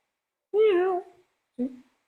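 A preacher's voice imitates a cat with a drawn-out meow followed by a shorter second one, close and loud in an otherwise silent moment.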